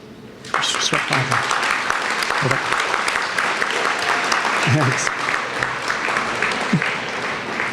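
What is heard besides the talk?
audience applause approving board of directors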